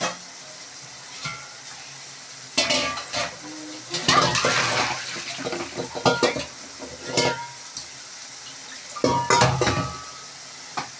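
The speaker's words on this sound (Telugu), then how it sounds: "ఇది అడుగు అంటుకోకుండా మనం కలుపుతూ ఉండాలి" Gongura chutney mixture being stirred in a pan, with intermittent scraping and stirring strokes over a soft sizzle, coming in bursts with pauses between them.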